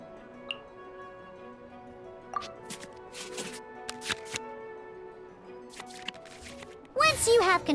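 Cards are shuffled back into a draw pile in the Genshin Impact card game, with soft clicks and taps through the scene and a sudden, louder swishing flurry of card movement at the very end.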